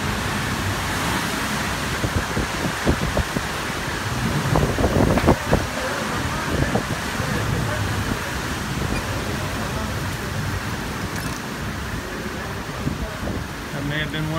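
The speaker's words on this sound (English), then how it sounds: "That may have been one of the hardest gusts yet." Hurricane Michael's wind gusts roar through Marianna, Florida in a continuous broadband rush that swells into a harder surge midway before settling back to a steady howl.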